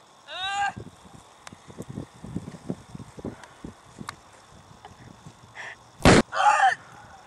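A sniper rifle fires in a war video game as a single sharp, loud blast, followed by a short burst, after scattered faint thuds and game sound effects.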